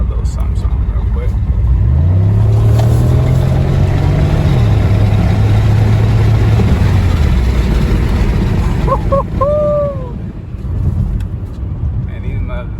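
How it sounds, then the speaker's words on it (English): An LS4 V8 car does a roll launch from about 20 mph, its engine note climbing hard and then holding steady over wind rush, with a voice talking briefly near the end. "I'm about to do a little small takeoff for y'all"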